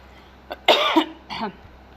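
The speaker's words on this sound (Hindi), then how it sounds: "मुझे खांसी भी आने लगी है।" A person coughs a few times in quick succession, close up, with a short pause before a final cough; no other sounds.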